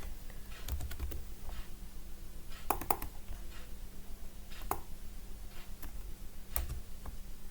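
Computer keyboard keys tapped to enter an average formula, with scattered clusters of sharp clicks and short pauses between, close and fairly quiet over a steady low hum.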